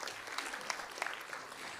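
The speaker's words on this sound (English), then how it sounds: "So again, give yourselves a round of applause for being here." Audience applause at a port authority's State of the Port 2025 luncheon in Corpus Christi, a large crowd clapping in a steady, dense wash from start to finish with a few sharper claps standing out.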